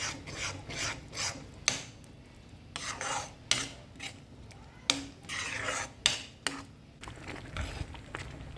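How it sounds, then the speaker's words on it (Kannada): Fried Malabar spinach is stirred into curd in a pan, giving repeated scraping, rasping strokes of a spoon against the pan in an irregular rhythm, moderately loud and close, with no talking. "ಹುರಿದಿಟ್ಟಿರೋ ಬಸಳೆ ಸೊಪ್ಪು ಹಾಕ್ಬಿಟ್ಟು ಚೆನ್ನಾಗಿ ಮಿಕ್ಸ್ ಮಾಡ್ಕೊಳ್ಳೋಣ."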